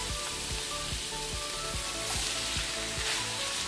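Beans tipped into a pan of frying vegetables for enchiladas set off a steady, loud sizzle with scraping stir sounds, close and continuous, no voices.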